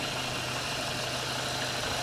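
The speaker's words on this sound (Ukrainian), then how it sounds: "ось так працює двигун" A 2010 Dacia Sandero Stepway with a 1.6-litre eight-valve petrol engine idles, giving a steady, unbroken mechanical hum with no speech over it.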